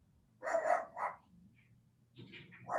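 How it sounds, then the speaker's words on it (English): A dog barking at another dog lets out a few short, muffled barks at a moderate distance in a quiet room, with a pause in between and a couple more barks at the end. "That's my dog barking at another dog."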